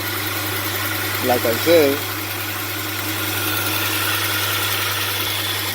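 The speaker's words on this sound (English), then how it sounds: "I don't know if you can hear how the engine sounds, but the engine sounds perfect" A 2002 Hyundai Santa Fe engine with a suspected bad catalytic converter idles in a steady, even drone under a short stretch of talk near the start.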